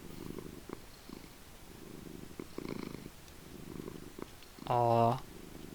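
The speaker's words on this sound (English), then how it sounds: "So let's play a cat purring." A cat purring in Minecraft, a short, loud, rhythmic burst that stands out clearly after a quieter stretch of speech.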